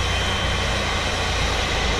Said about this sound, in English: the engine sound of the jet engines.